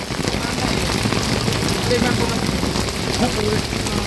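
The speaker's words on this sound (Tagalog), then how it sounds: "Grabe, grabe, grabe. Grabe ang ulan." Heavy rain pours steadily onto a surface, a dense continuous hiss with a faint low rumble like an idling engine underneath.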